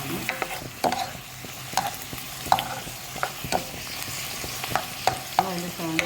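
Cow's milk goes into a simmering pineapple payasam and a spoon stirs the pot, producing a series of regular metallic clinks and scrapes over a soft bubbling background, with no speech.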